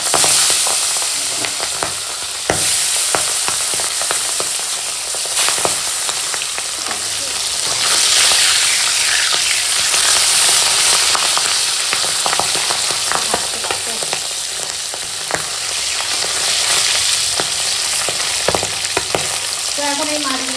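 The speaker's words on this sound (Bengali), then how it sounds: "তেল গরম হয়ে গেছে, মাছ ভেজে নেবো।" Fish frying in hot oil in a home kitchen, a steady dense sizzle with crackling pops running close and loud throughout, no talk over it.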